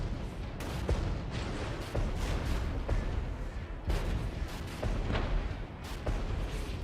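Continuous battlefield gunfire from ordered infantry units in the war game Regiments, with repeated muffled rifle cracks and distant booms layered over a dense, rumbling backdrop.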